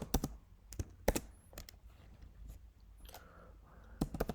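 Someone types JavaScript code on a computer keyboard, producing close, crisp key clicks in short irregular bursts separated by brief pauses.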